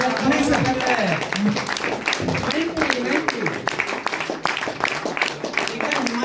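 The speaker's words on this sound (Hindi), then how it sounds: "जोरदार तालियां मुनीर सर के लिए।" A crowd at a community celebration in Shimla claps for a leader in dense, continuous applause while someone speaks loudly over it.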